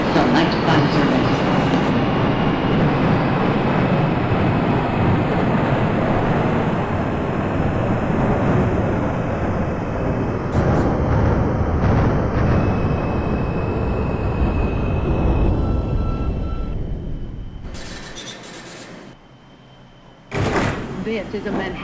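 An R142 5 local subway train in the OpenBVE simulator rumbles along loudly, its roar slowly fading and easing off, followed by a brief hiss and thump near the end.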